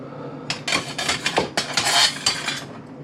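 Serving utensils clink and scrape against pots and dishes while slow-cooked chicken and vegetable soup is plated, a run of close, bright metallic knocks and rattles in irregular bursts with no talking.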